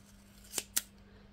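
Scissors snip twice through printed paper for a chocolate wrapper, cutting the piece in half; two crisp, close cuts about a fifth of a second apart in a quiet room.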